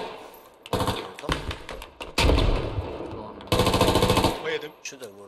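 Automatic gunfire from the tactical shooter game Squad, coming as loud rapid bursts separated by short gaps, with one long sustained burst near the end and voices talking in between.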